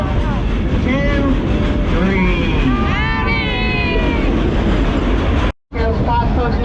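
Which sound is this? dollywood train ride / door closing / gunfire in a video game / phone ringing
dollywood train ride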